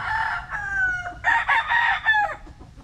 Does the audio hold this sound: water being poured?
no